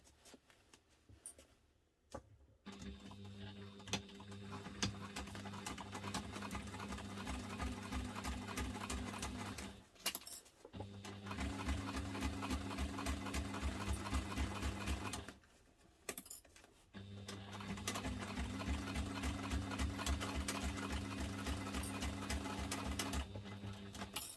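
A sewing machine stitches an urban messenger diaper bag at top-stitch length in three long, steady, rapid runs, pausing briefly between runs, close and fairly quiet.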